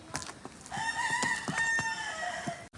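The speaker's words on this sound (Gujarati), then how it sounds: "કુકડા બોલે છે બપોરના બાર વાગે" A rooster crows at midday near a village cattle pen, one long, clear cock-a-doodle-doo that rings out close and loud, with faint clucks and small knocks around it and no talk.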